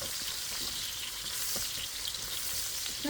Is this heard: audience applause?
no